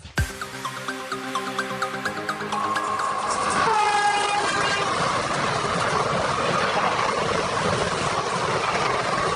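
An Indian Railways passenger train, the Chandigarh–Indore Express, running alongside a highway, opening with a long horn blast and squeal before settling into a steady close rumble and rattle of wheels.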